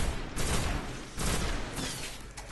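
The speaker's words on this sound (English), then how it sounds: "I'm taking pot shots" Gunfire in the sci-fi shooter Destiny, heard as dense, continuous rumbling bursts of shots that swell and ease, distant-sounding and moderately loud with no talk.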